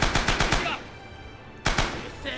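Rapid bursts of machine gun fire from the video game Rising Storm, close and loud, two short volleys separated by a brief pause.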